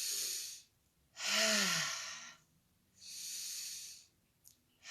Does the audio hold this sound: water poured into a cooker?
no